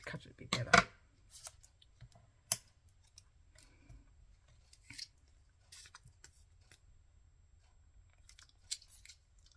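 Scissors snip through cardstock during card making, giving a few quiet crisp cuts and sparse clicks with faint handling noise in a calm room.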